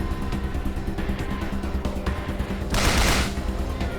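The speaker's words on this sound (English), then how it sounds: "Shooting the Meson cannon, love it." Meson cannon fire in Wasteland 2: a dense game battle soundscape of repeated gunshot-like bursts, with one loud broadband blast near the end standing out above the steady combat noise.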